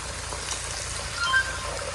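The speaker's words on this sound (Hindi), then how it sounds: "चलें जी, ये रोल फ्राई हो रहे हैं और साथ में ये कचौड़ियाँ फ्राई हो रही हैं" Kachoris and rolls deep-fry together in hot oil in a hostel kitchen, giving a steady, even sizzle and bubbling hiss that continues unbroken at moderate loudness, with no talking.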